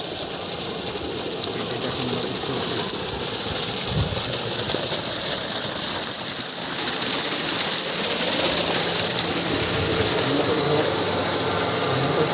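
A farm motor on a village field runs steadily throughout, a continuous broadband mechanical drone at moderate level with no pauses, heard alone without talk.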